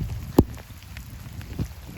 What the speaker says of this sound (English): It's like a flood. It's just been raining.